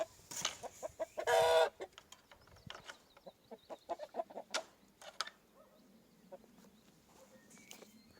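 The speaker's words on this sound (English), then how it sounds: "I'm getting these birdies in now." Chickens cluck and squawk in short scattered bursts, one loud raucous squawk near the start, with rustling and footsteps around them.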